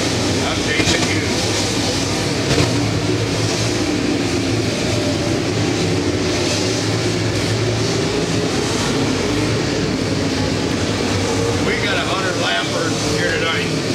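Dirt track race cars roar past at an evening racing event, a dense continuous engine din with surging waves of noise. A commentator's voice runs over it throughout.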